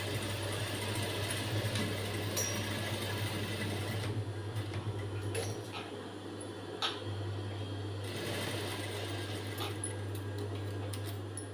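A sewing machine stitching a blouse, running steadily with a constant motor hum and rapid needle clatter, pausing briefly and then resuming close by.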